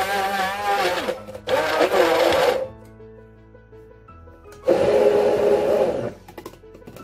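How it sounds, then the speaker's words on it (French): A kitchen blender whirs through croquette batter of onion, garlic and water in three loud close bursts, the first two back to back, then a pause with a faint hum before a final longer run. "Je vais rajouter un peu d'eau des 150 g qu'on a prévu pour faciliter mon mixeur. Là, on va mixer."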